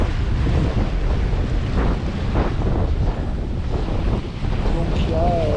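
Steady moderate wind buffets the microphone over surf and sloshing water aboard a sailboat on a return delivery passage from La Grande Motte toward Saint-Mandrier, a continuous roar with a brief whistle near the end.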